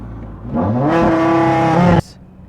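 A 1000 hp Audi RS3 drag car screams down the strip toward the finish line, its engine note climbing into a loud, harmonic-rich roar for over a second before abruptly cutting off.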